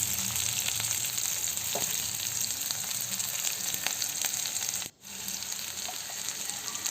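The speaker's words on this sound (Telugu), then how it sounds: "1/2 స్పూను జీలకర్ర వేసి ఫ్రై చేసుకొని తర్వాత ఆనియన్స్ వేసి ఫ్రై చేసేసుకుందాం" Onions fry in oil with mustard seeds and cumin for a jackfruit curry, producing a dense, steady sizzle with faint crackles and a brief drop-out near the end, heard close without voices.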